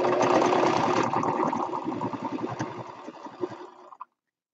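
Sewing machine stitching a 1/2-inch quilt seam, a close, steady mechanical whir with rapid needle chatter that slows and stops abruptly after about four seconds.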